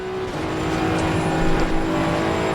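A Maserati GT2 race car engine in Assetto Corsa Competizione drones and builds in pitch, its exhaust note steady and fairly loud, with a slightly synthetic, game-like quality.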